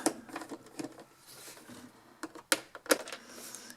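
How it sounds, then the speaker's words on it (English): Torx screws being backed out of a tower fan during disassembly, a string of small close clicks and scraping ticks with a couple of sharper taps, quiet and without talk. "So I'm going to take these screws out."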